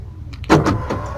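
Motor of a car's electric power window, driven by a Doğan window lift module, running briefly as the glass opens, with a short whir and mechanical clunks close by; no talking.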